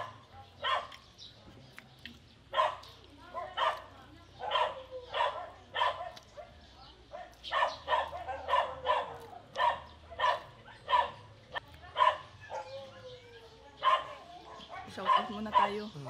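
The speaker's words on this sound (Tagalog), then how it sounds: "Sinsya na po kayo sa aso." A dog barks repeatedly at an outdoor cooking spot, a long run of sharp, fairly close barks in irregular bursts, with speech heard faintly in between.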